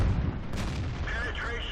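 Jagpanzer IV tank cannon firing in World of Tanks, a heavy, booming blast with a sustained low rumble that fills the whole moment, loud and close, under a voice speaking.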